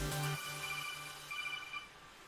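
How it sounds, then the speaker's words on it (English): A phone alarm rings with a short, bright electronic melody of repeated tones, fairly close and clear, fading out after about two seconds. "that was my phone alarm reminding me that got some other stuff to do"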